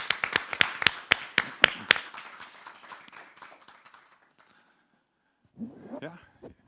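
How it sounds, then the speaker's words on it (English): A conference audience claps, starting as a few loud, sharp distinct claps that thin into scattered fading applause, then a short burst of speech after a silence. "I would like to ask you to fill this gap with a round of applause."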